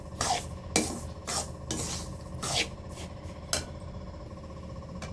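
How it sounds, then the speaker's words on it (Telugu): Semolina (rava) with sugar being dry-fried and stirred in a pan, rhythmic gritty scraping strokes about every half second, fairly close, with a light sizzle underneath and no talk. "కొంచెం ఎర్రంగా వచ్చేదాకా ఫ్రై చేసుకుందాం."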